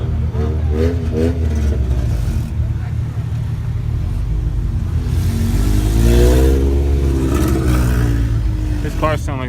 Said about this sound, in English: This car sounds like it's gonna break apart any minute.